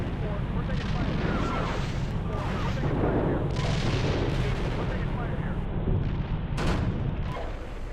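Incoming fire in the tank simulation game Steel Beasts Pro PE, a dense stretch of rumbling blasts and booming impacts rolling continuously, loud and close, with sharp bursts standing out near the end.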